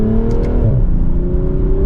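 A 2024 BMW Z4 M40i roadster's engine pulls under mild acceleration, a loud, steady droning growl with a rising then settling pitch, heard up close from the cabin without any voices.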